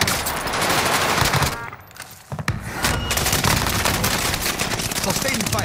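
Sustained automatic gunfire in a video game, dense rapid bursts with a brief lull midway before the shooting resumes, loud and continuous throughout.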